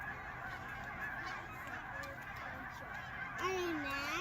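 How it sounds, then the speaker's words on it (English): Geese honking near a museum of nature and science, with several loud, drawn-out calls toward the end over a low outdoor background and brief talk. "Geese."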